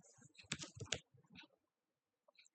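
Quiet computer keyboard typing while entering Django code, a short cluster of crisp clicking keystrokes followed by a pause and a few isolated taps.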